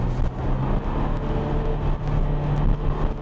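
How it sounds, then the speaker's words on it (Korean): A Mercedes GLC Coupe facelift's four-cylinder engine, shifted into manual mode, revs steadily from inside the cabin. It is a smooth, continuous drone with slight rises in pitch and no talk. "RPM을 한번 높여보면"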